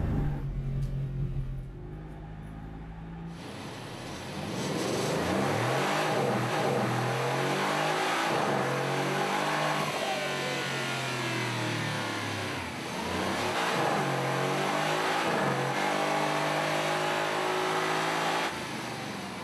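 A powerful hot-V V8 engine of a Mercedes-AMG GT roars steadily on a test rig, its pitch swelling and easing in repeated revs, loud and close with no voices.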